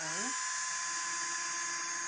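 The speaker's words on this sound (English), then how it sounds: "You might also need a drill, particularly if you want to pre-drill the holes for the Lagerphone." A small power drill whines steadily at high pitch while pre-drilling holes for a homemade lagerphone, rising briefly at the start and then holding a constant buzzing tone.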